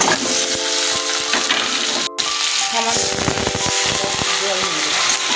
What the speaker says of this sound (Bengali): ভালো করে নাড়াচাড়া দিয়ে নিই।